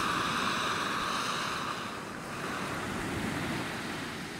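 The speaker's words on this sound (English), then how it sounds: "And here we have a rolling boil" Water at a rolling boil on an MSR Pocket Rocket 2 stove gives a steady, broad hissing and bubbling roar, continuous and fairly close, with no talking.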